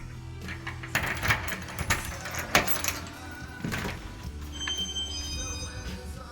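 A set of keys is picked up and jingles in a house during a 12x12 drywall patch repair, giving a few close metallic clinks and rattles over soft room noise.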